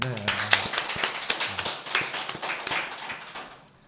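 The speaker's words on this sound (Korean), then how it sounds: "격려의 박수 한번 칠까요?" An audience claps in encouragement during a Korean podcast recording, a brief burst of dense applause that swells quickly and fades out over a few seconds.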